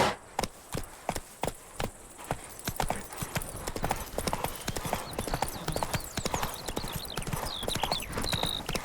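Steady clip-clop of hooves from Geralt's horse Roach in the video game The Witcher 3: Wild Hunt, sharp evenly spaced strikes at a trot, close and clear, with faint ambient game sounds building behind them.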